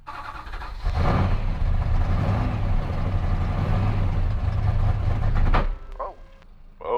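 A car engine idles steadily and loudly for several seconds, a low rumbling drone that then drops off, followed by brief quieter sounds.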